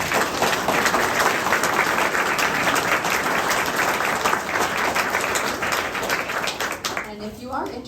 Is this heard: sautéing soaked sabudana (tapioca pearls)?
no